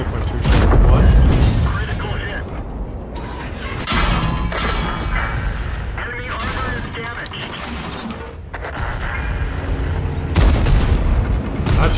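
Heavy tank cannon shots from the Caliban tank in a video game, firing HESH rounds: loud booming blasts with mechanical clatter and rumble, roughly two main shots across the stretch, with game sounds throughout.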